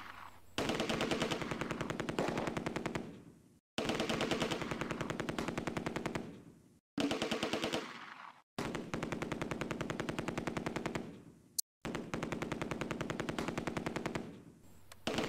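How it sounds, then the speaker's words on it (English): A Vickers machine gun fires in long, sustained bursts in the video game Close Combat: A Bridge Too Far, rapid loud rattling volleys separated by short pauses, with no talk. "The Vickers switches fire to the Schützen squad on the main road and causes another casualty."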